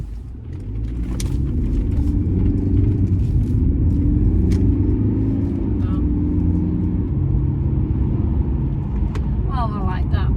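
A 2018 Mercedes-Benz E220d diesel in AMG Line Premium Plus trim accelerates away, its low engine and road rumble building and holding steady as it pulls out along a busy road, with a voice speaking at moments over the noise.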